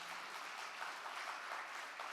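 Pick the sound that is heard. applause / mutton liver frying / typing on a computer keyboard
applause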